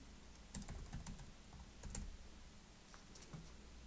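Fingers type on a computer keyboard in short bursts of quiet, close key clicks with brief pauses between, no talking over them.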